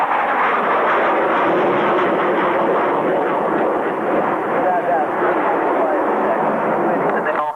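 A Tornado jet powered by a pair of Turbo Union RB199-34R engines at an airshow, heard as a loud, continuous, broadband jet roar that holds steady for the whole stretch.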